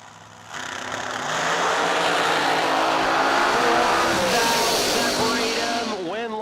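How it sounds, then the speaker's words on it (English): An American Dragster drag race car launches at a drag strip with a loud, sustained engine roar that builds quickly and holds, then fades with a brief tire squeal at the end. A voice is heard under the noise. "Shanna Stone, Vintage Trailers, 446 in the American Dragster on the left side."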